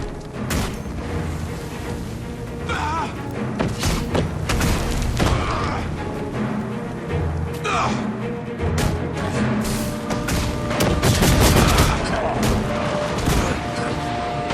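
Chaotic Guild Wars 2 battle din with repeated booming cannon blasts and gunfire, layered explosions and crashes rolling on continuously amid game action noise.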